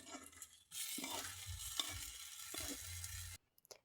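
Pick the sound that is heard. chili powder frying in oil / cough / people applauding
chili powder frying in oil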